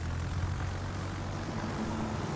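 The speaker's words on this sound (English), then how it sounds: "Wanna launch also some lovely planes." Warplanes launch from a ship in a naval video game, a steady droning propeller-engine hum that holds at moderate level alone, with no talk over it.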